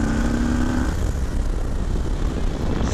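A 2020 Harley-Davidson Lowrider S runs fast on a test ride, its engine drone steady and loud under heavy wind rush, with a brief higher whine early on and no talk.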